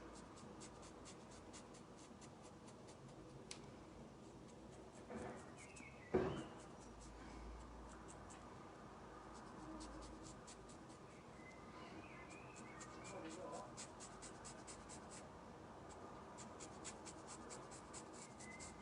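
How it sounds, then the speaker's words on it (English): A dermaplaning blade scrapes lightly across facial skin in a quiet room, making faint, close, dry scratchy strokes in short repeated bursts, with one louder knock partway through. "it's just going to scrape across the top of the skin"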